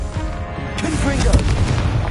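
A Confringo blasting spell in Hogwarts Legacy goes off as a sharp, booming burst amid clattering combat effects, loud and close, with a voice calling out during the fight.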